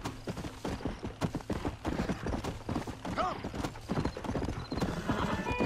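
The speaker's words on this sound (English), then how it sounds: "Sorry, horse." A horse in the Western video game Red Dead Redemption gallops with rapid rhythmic hoofbeats and lets out a loud neigh partway through, set against busy game sound.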